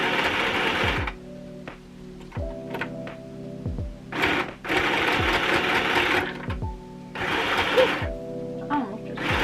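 A sewing machine stitches lined fabric in several loud bursts of rapid whirring, separated by short pauses and light clicks and thunks between runs.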